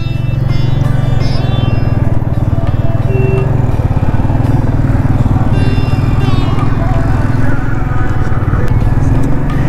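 Steady drone of a Mustang motorcycle cruising along a highway out of Motihari, a continuous loud engine and wind rumble with no pauses, heard close up from the rider's position.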